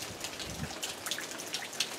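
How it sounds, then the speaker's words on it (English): Light rain falls steadily in a garden in the early morning, with soft continuous patter and scattered distinct drips landing nearby on surfaces. "It's 6:20 and it's raining."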